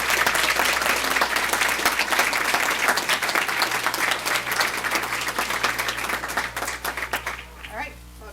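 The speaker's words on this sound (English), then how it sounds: "please join me in giving them a huge round of applause" A room of people at a board of education meeting breaks into loud sustained applause for students being honoured, dense clapping that holds steady and then tapers off as it ends.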